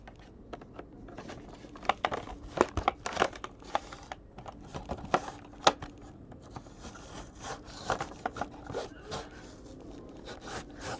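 Knife cutting and prying open tough plastic toy packaging, a busy run of scraping, crinkling and sharp snapping clicks, close and fairly faint throughout with no talk.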